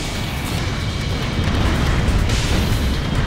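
Missile explosion in the air-combat game Ace Combat Infinity, a dense, continuous rumbling blast that swells louder midway and stays heavy to the end, with no voices over it.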